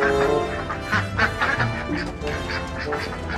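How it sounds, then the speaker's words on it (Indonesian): Repeated nasal duck quacks in quick succession, fairly loud and close, over a steady background hum. "ini bebek"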